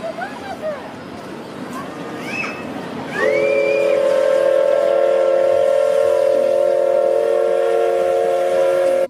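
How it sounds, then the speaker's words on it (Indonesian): Toy Thomas train sounding a steady, bright whistle tone that holds for several seconds, preceded by chirpy, lively background noises. "Wadidaw, ini ada kereta Thomas."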